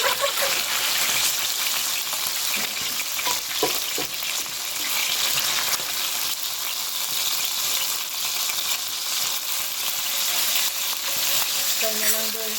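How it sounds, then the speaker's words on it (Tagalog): Chicken pieces frying in hot oil for Filipino adobo, a loud, dense, steady sizzle and crackle that carries on without a break, with faint clatters of cooking utensils. "we'll fry the rest Oh no. of the chicken"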